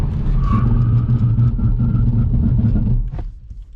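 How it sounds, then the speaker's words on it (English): ABS pulsing loudly during a hard brake test in a 2021 Kia Seltos, heard from inside the cabin as a rapid rumbling judder over road and engine noise for about three seconds, then cutting out as the car stops. "Some loud ABS. Yeah, that was super loud."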